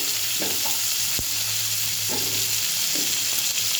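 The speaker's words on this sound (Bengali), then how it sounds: "বন্ধুরা আমি বেশি ভাজবো না, খুব হালকাই ভাজবো, একদম টাটকা মাছ, খুব হালকা ভাজা দেবে" Fresh fish lightly frying in a pan: a steady background sizzle of oil with a few soft stirring scrapes and one sharp knock of a utensil, no talking.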